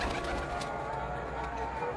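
A pigeon coos softly against a steady outdoor background hum.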